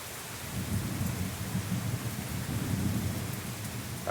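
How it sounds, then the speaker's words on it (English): Thunderstorm in a drought season, with steady rain pattering on surfaces and low rumbling thunder rolling beneath it, continuous and moderately loud with no voices. "That's another thing you got to get used to down here is the thunder and the boomer."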